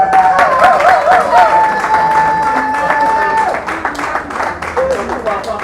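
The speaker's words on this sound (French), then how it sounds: "Est-ce qu'on peut applaudir pour lui?" Dense audience applause at a comedians' conference, loud and sustained throughout, with a sustained tone and voices layered over the clapping crowd.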